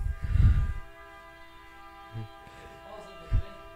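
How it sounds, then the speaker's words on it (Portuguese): A train sounds its horn in a sustained, moderately loud chord behind low rumbles and a few scattered thumps, with no speech over it. "Olha o nosso trem."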